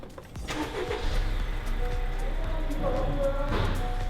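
A Honda car fitted with a Hondata engine tune cranks and catches, then settles into a steady, fairly quiet idle rumble.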